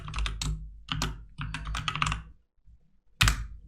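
Quick bursts of typing on a computer keyboard while creating project folders, keys clattering in rapid clusters with a short pause, then one final sharp keystroke, close and clear with no talking.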